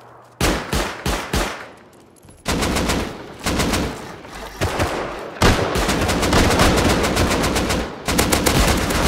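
Loud gunfire during a base raid in the survival game Rust: short staccato bursts at first, then long, rapid automatic volleys with a few brief breaks, close and dominant throughout.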